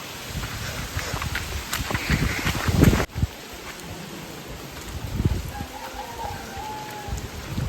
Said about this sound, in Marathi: समोरून पाऊस बघा किती जोरात येतोय